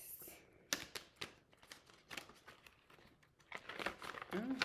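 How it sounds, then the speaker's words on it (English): Tarot cards shuffled by hand, quick papery riffles, slaps and crinkles in uneven bursts, close and fairly soft, with a brief voice-like tone at the very end. "I'm being messy with the shuffling."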